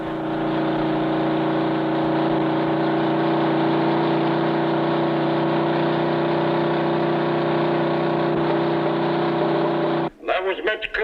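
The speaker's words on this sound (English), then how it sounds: "That was Mitch Cooper in car number 8, finishing his qualifying run." A 1960 stock car on a qualifying run makes a loud, steady engine drone for about ten seconds, then it breaks off abruptly into a short, uneven burst of other noise.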